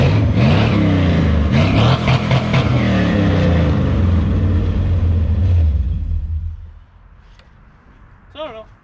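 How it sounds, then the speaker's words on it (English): A hot rod with a loud aftermarket exhaust revs hard, its deep rumbling engine rising and falling in bursts up close before dropping away to a quieter idle near the end. "I put loud exhaust on it"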